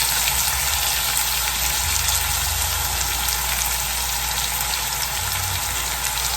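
Boston butt pork searing in olive oil in a preheated pan, a loud, dense, constant sizzle with a low hum underneath and no talk.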